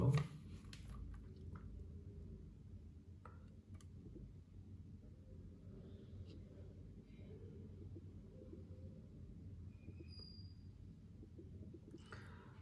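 Someone chews a mouthful of rice mixed with tamarind chili powder, with soft, close, faint wet mastication going on steadily and no talking.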